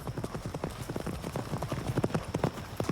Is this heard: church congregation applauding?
no